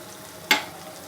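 A short, sharp burst of sizzling rises over a low background hiss as masala fries on high flame in a pan for chicken karahi.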